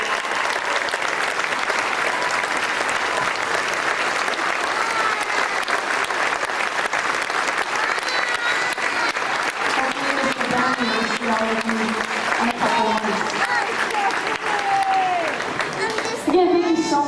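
Audience applause for eighth graders at a school jazz and symphonic band concert, a steady, loud wash of clapping across the whole stretch, with a few voices and cheers rising near the end.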